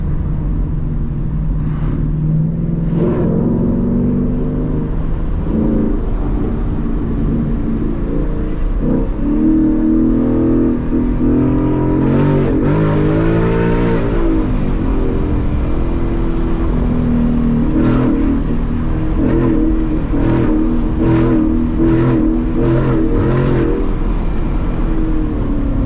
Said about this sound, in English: The downshifting goes crazy.